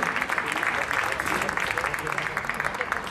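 Audience applause fills a hall at an LGBT pride gala in Leganés, a steady dense patter of many clapping hands held at an even level for a few seconds.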